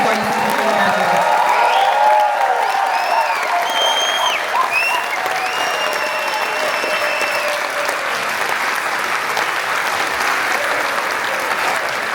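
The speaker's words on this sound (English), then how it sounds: "Please give another loud round of applause for our 2024 graduates." Loud, sustained clapping from a large audience honoring the 2024 graduates of a Union County Sheriff's Office youth police academy, steady and dense throughout with a few scattered whoops and cheers.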